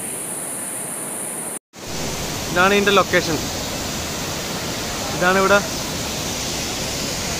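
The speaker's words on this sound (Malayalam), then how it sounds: "ഇതാണ് വെള്ളച്ചാട്ടം. നല്ല വലിയൊരു വെള്ളച്ചാട്ടം തന്നെയാണ്." A large waterfall at Anatti Waterfalls produces a steady, broad, continuous roar that fills the whole clip after a brief cut, while someone speaks briefly over it.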